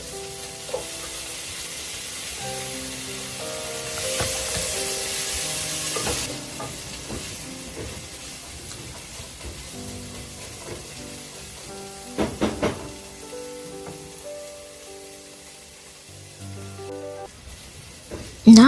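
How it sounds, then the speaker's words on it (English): Chopped tomatoes sizzle steadily in a hot pan, a continuous close frying hiss with occasional stirring scrapes and a few clatters near the end. "Next, I'm adding the chopped tomatoes and cooking them until they become soft"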